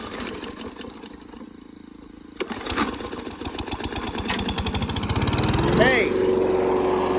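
Lawn mower running through clogging grass on a farm plot, its engine note rising and steadying nearby after a quieter start, with voices speaking over it.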